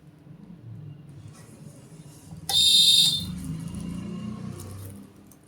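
An electric bag sealing machine sounds a sharp, shrill buzzer for about a second, loud and close, while it seals a plastic cover, with a low hum before and after.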